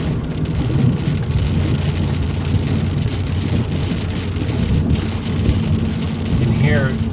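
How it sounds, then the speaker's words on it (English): Heavy rain beating down outdoors, a loud, constant hiss with low rumbling underneath and some traffic noise, holding strong the whole way through. "You can hear, obviously, the rain increasing."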